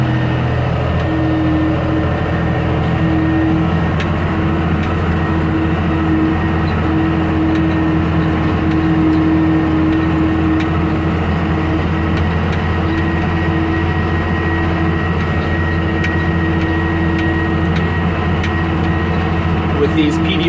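A Case IH Maxxum 5240 tractor raking hay with a PTO rake runs at about 1700 RPM and 6 miles an hour, its engine giving a steady, loud, low drone throughout, with a voice talking over it.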